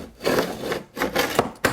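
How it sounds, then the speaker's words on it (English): A razor blade knife scores along painted window trim, giving a series of short, close scraping strokes with brief pauses between them, a dry rasping rub against wood and paint. "you want to score the paint"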